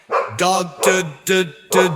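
A dog gives five short, bright barks in quick succession, each one close and clear with brief gaps between them.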